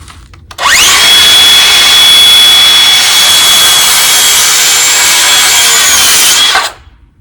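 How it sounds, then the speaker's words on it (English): A new DeWalt saw cuts through wood outdoors while a deer platform is being built, giving one loud, steady whine that starts abruptly, holds for about six seconds and then cuts off, with no voices. "I did buy me a new DeWalt saw."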